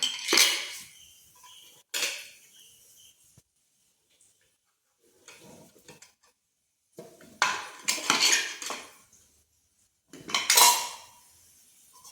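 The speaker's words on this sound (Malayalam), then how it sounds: "ഇനി ഈ പാത്രം തുറന്ന് നോക്കാം നമുക്ക്." Metal cooking pot and lid clatter in several short bursts separated by quiet pauses as the pot of cooked potatoes is opened, close by, with scraping and clinking.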